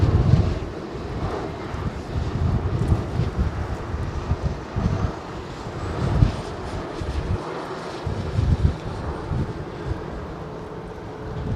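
An ITA airliner in old Alitalia livery passing at London Heathrow, a moderate jet rumble broken up by gusty wind buffeting on the microphone.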